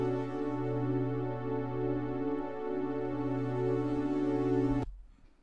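A sustained synthesizer pad chord holds steady with rich layered harmonics, then cuts off abruptly near the end, leaving a brief faint tail.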